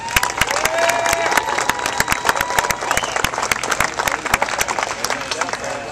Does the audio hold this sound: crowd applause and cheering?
yes